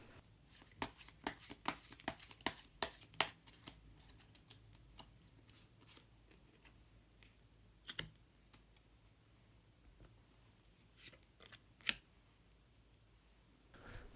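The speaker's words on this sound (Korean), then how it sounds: "색깔로 알아보는 컬러 카드 한 장 더 뽑아보도록 하겠습니다" A deck of colour cards is shuffled and drawn by hand, giving quick, faint papery flicks and taps clustered at first, then sparser single snaps against a quiet room.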